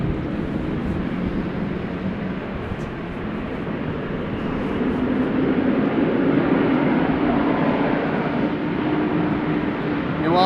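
A KLM Boeing 787 taxiing at Amsterdam Schiphol Airport in wet, windy weather: a continuous broad engine roar and whoosh, steady and fairly loud, slowly shifting in tone with no talk over it.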